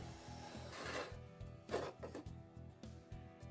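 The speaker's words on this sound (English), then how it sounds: "I'll take it and I'll slide it all the way down the stone" Scissors blade slid in long strokes down the full length of a sharpening stone, a faint, steady rasping scrape repeated in an even rhythm, close up with no talking.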